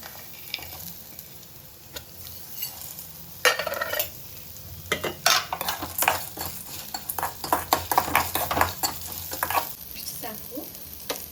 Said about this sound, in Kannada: ಇದನ್ನು ಸ್ವಲ್ಪ ಲೈಟಾಗಿ ಎಣ್ಣೆ ಹಾಕ್ಕೊಂಡು ಹಸಿ ವಾಸನೆ ಹೋಗೋ ತನಕ, ಡೀಪ್ ಬೇಡ, ಜಸ್ಟ್ ಹಸಿ ವಾಸನೆ ಹೋಗೋ ತನಕ ಫ್ರೈ ಮಾಡ್ಕೊಳ್ಳೋದು